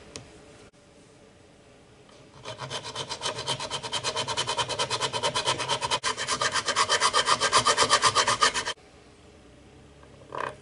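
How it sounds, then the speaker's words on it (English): A hand file rasps back and forth over a part of a Yamaha outboard motor, producing a fast, regular run of close, loud strokes that lasts about six seconds and then stops. "Looks like it needs just a little bit of file work."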